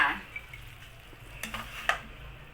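A spatula scrapes and clinks against a pan and plate while stir-fried long beans with chicken are served up. The strokes are faint and sparse, with a few sharp metallic scrapes over a quiet kitchen.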